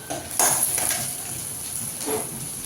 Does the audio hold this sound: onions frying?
yes